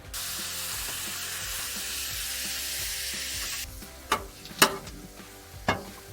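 Shrimp sizzling on a hot griddle: a dense, steady frying hiss for several seconds, then a few sharp metallic scrapes and taps as the sizzle drops away.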